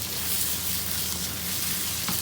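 Whole cumin seeds sizzle in hot oil in a pan, a dense steady hiss and crackle heard close up, with a slight clink near the end.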